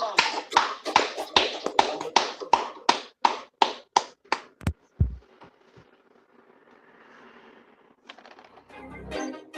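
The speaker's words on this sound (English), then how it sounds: "Clap it up." A quick run of about a dozen sharp, evenly spaced claps, followed by a couple of louder hits and some faint rustling.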